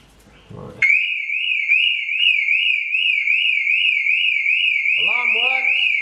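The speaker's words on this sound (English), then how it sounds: "got the battery connected, alarm works, it is very loud" The alarm on an abandoned barn-find TVR Cerbera blares loud and close, a steady warbling electronic wail that starts abruptly after brief low speech and keeps sounding, with someone talking over it near the end.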